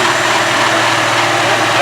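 1995 Honda Civic engine running just after being started with a fault, a loud, steady, slightly rattly idle close by with no talking.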